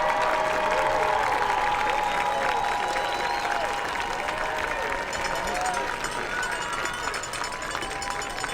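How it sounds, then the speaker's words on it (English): A high school football crowd on senior night gives a standing ovation for the Patriot Marching Band, a continuous wash of clapping and crowd noise heard from a distance with faint tonal sounds in the background. "let's return that salute with a standing round of applause for the Patriot Marching Band"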